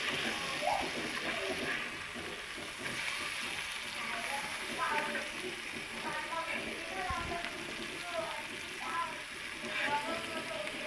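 Boi fish fries in a pan, giving a steady crackling sizzle with small spitting pops, close and continuous while a person talks over it.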